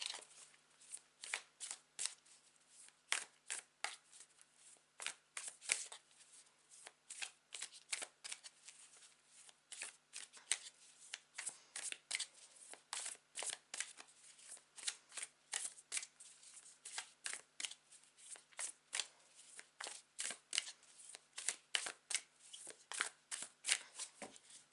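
A deck of tarot cards is shuffled close up, with rapid crisp riffling bursts repeating steadily and alone throughout, with no voices.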